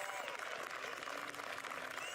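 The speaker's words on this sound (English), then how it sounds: "On the podium, give them a big applause." A crowd claps in a faint, steady wash of applause at a ski cross World Cup podium ceremony, with some voices mixed in underneath.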